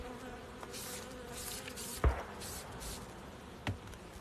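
Honeybees buzz steadily and fairly close while a hive is treated for varroa with a sprayed oxalic acid solution. A soft hiss and two brief taps break through the continuous hum.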